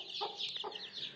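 A broody hen clucks softly near her ten chicks, a few short close clucks with faint high peeping around them.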